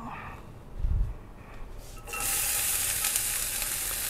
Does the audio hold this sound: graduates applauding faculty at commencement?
no